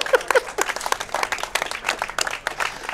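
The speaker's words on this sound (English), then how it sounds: "He deserves a round of applause." A burst of applause from a crowd at a speedrunning marathon, dense overlapping clapping that holds steady throughout.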